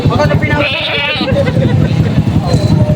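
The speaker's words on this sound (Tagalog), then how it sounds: "malaking kambing" A large black goat bleats at a livestock market in Padre Garcia, Batangas, giving a couple of loud, wavering calls close by while people talk around it.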